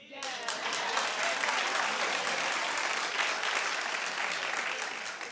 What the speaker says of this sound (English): So, clap if you think it's out of order that Puffy posted.